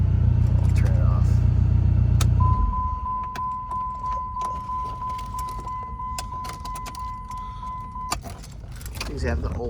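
A 2005 Dodge Neon SRT-4 turbo engine idles with a low rumble and then cuts out after about two seconds. Keys jangle in the ignition, and a steady chime continues afterward while people talk quietly.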